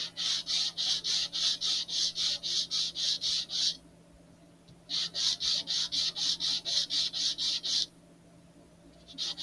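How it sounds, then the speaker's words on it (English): Rhythmic hand sanding of wood for an Estes DARC 1 model rocket build, rapid back-and-forth rasping strokes, close and steady, in two bursts separated by a short pause. "Hopefully that's all the sanding we have to do for now"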